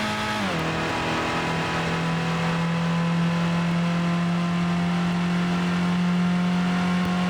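A car in Gran Turismo (1998) holding a steady, loud engine drone after a brief downward pitch shift at the start, a continuous close whine sustained for several seconds.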